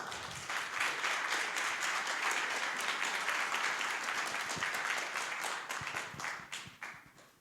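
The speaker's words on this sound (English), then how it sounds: "So round of applause for our next speakers." Audience applause at a DAO conference session in Athens welcomes the next speakers, a dense, steady wash of many hands clapping for about six seconds before thinning out and fading.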